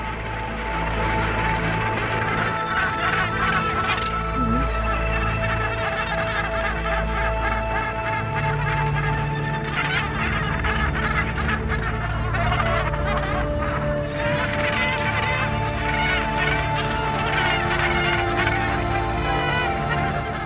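A crowded seabird colony calls without pause, a dense, loud wall of overlapping honking and squawking cries that never lets up.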